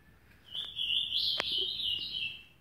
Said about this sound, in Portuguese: Que pula, que canta no pulo.